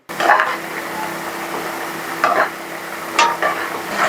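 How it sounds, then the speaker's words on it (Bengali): Pumpkin and potato pieces frying in hot oil give a steady, close sizzle, with a few louder bursts of stirring and scraping near the middle and end. "গরম তেলে কুমড়োর আলুটাকে ভেজে নেব।"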